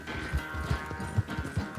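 Horse hooves in Red Dead Redemption 2, a short run of distinct, evenly spaced hoofbeats thudding at a walking or trotting pace, fairly close and moderately loud.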